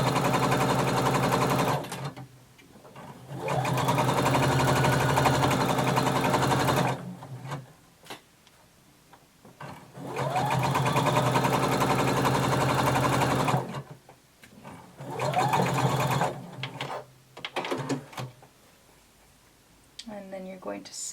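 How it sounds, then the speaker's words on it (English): A sewing machine stitches the side seams of a bodice in long, steady bursts of close mechanical whirring, stopping and restarting several times with short quiet pauses between runs. "you're going to sew both side seams using 5/8 of an inch seam allowance"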